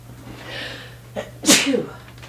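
A single loud sneeze preceded by a drawn-in breath, close and clear, with a faint breathy exhale afterward.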